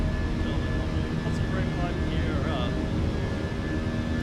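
A steady, even airliner engine drone climbs through cloud in a flight simulator on a New Zealand route from Auckland to Christchurch over the Alps, holding constant beneath a voice.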